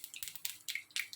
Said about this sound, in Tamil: கடுகு பொரிஞ்சுக்கிட்டு இருக்கு.